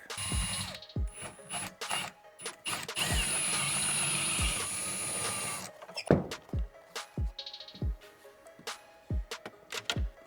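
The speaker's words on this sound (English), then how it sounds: "drill this hole out just a little bit" A power drill whines in sustained bursts with mechanical grinding while widening a bolt hole in a carbon fiber part in a C8 Corvette engine bay, interspersed with clicks and knocks of tools being handled; no speech.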